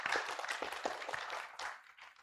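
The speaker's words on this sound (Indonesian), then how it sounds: "Boleh tepuk tangan dulu?" Audience applause at a Suzuki Peduli Mudik event celebrating the Suzuki Fronx, a steady wash of many hands clapping at moderate level, fading slightly near the end.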